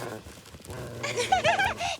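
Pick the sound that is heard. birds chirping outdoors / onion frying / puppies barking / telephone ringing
puppies barking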